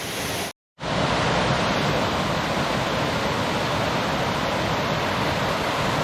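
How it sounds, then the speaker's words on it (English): Lick Log Falls pours into the Chattooga River, giving a steady, loud broadband rush of falling water that fills the scene close by, with one brief dropout near the start. "Base of Lick Log Falls, flowing into the mighty Chatooga River"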